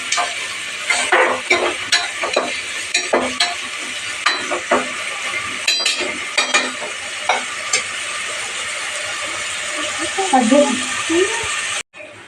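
Chicken pieces fry in a pan for chicken biryani, sizzling steadily while being stirred, with repeated clinks and scrapes of a utensil against the pan and a voice talking over the cooking.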